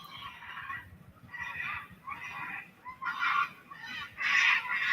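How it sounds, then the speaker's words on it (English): About sixty cockatoos screech together at dawn, harsh squawking bursts coming in repeated loud waves over a steady background. "about 60 cockatoos at 6 a.m."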